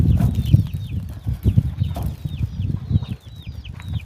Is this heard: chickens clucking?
yes